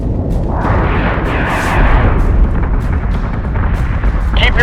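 Heavy warship cannons fire in the space battle game Battlestar Galactica Deadlock, a loud rumbling barrage of booms rolling over a dense low roar for several seconds, with crackling bursts layered on top.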